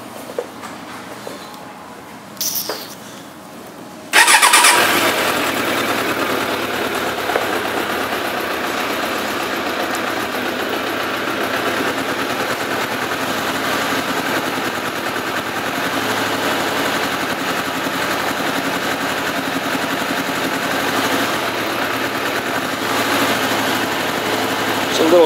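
A cold-blooded 2002 Suzuki GSX750F Katana motorcycle engine cranks and catches after a few seconds, then settles into a steady, close, continuous running idle through to the end.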